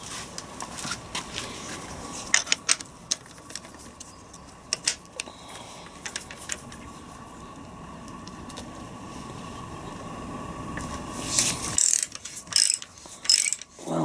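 A bolt loosened on a Land Rover Defender TD5 R380 gearbox with a ratchet, giving intermittent clicking ratchet and metal tool sounds over a steady low workshop hum, with louder clanks near the end.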